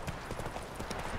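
Horses clip-clop at a gallop in The Witcher 3, a fast and even run of hoofbeats heard close up under the game's background noise.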